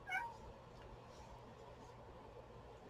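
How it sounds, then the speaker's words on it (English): A cat gives a single short meow near the start, faint against a low, steady background hiss in an indoor room where bracelets are being made. "Cat's calling me."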